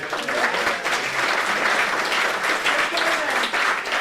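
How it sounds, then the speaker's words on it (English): Loud, close applause from an audience welcoming new board members at a company gathering, many hands clapping in a dense, steady stream, with scattered voices mixed in. "Then please give them an applause."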